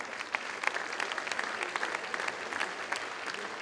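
Steady applause from an audience at a rugby club's 70th anniversary evening, dense clapping that holds evenly throughout without voices standing out.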